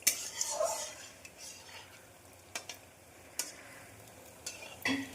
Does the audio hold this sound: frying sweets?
yes